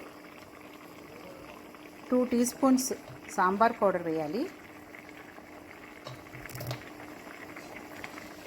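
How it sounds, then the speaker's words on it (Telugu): Tomato puree for sambar bubbles at a low, steady simmer in a pot, heard faintly beneath someone speaking for part of the time. "tomato puree మరుగుతున్నప్పుడు"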